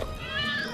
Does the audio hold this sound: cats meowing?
yes